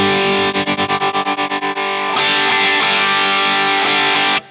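Distorted electric guitar played through a Two Notes OPUS with its contour knob being adjusted: a run of loud, evenly chugged palm-muted notes gives way to a thick, sustained chord ringing out until it cuts off abruptly, with no talking.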